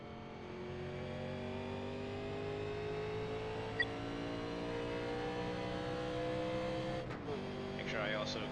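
A 1987 NASCAR stock car's engine drones steadily in iRacing at Michigan, a sustained mid-pitched whine held under 100 mph on the pit lane, with a brief dip near the end; a voice talks over it.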